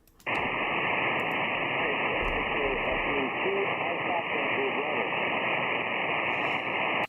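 Amateur radio receiver tuned to a faint distant station, giving a steady loud band of hiss and static that holds for about seven seconds, with a weak voice-like murmur buried in the noise.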